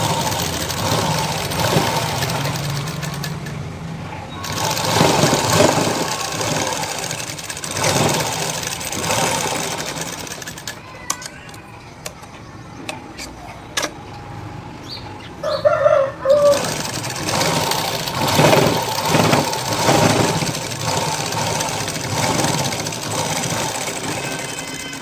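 A sewing machine stitches a blouse button strip in bursts of steady whirring, stopping for a quieter stretch midway, with a rooster crowing faintly in the background.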